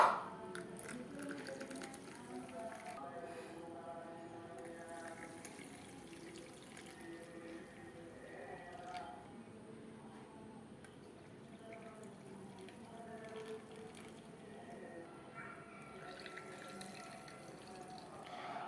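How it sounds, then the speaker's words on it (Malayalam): Pineapple juice is poured into soda for a pineapple mojito, giving a soft, continuous trickling and splashing of liquid into a glass, faint and close, with a few small drips along the way. "ഞാനിതാ പൈനാപ്പിൾ ജ്യൂസ് ഇതിലേക്ക് ഒഴിച്ചു കൊടുക്കുകയാണ് കേട്ടോ"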